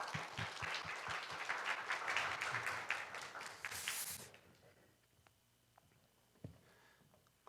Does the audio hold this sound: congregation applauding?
yes